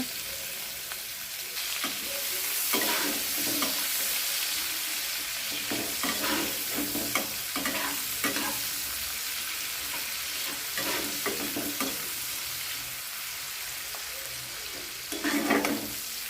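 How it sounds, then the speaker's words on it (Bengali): Chopped onion sizzles in a pan for a potol korma while a spatula stirs it, with repeated scraping strokes over a continuous fry hiss, moderately quiet and close, with no voices. "পেঁয়াজটা ভালো করে নাড়াচাড়া করে নেব।"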